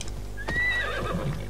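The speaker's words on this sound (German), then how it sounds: "Ruf ich mein Pferd wieder?" A horse in Assassin's Creed Odyssey answers a call with a loud, close whinny rising and falling over about a second, with hoof clip-clops underneath and no talking.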